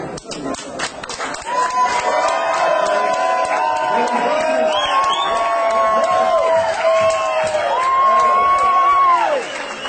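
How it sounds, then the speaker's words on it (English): A convention crowd welcomes a special guest with loud cheering, whoops and applause, voices shouting over steady clapping close by. "Give him a round, big round welcome and applause at this time."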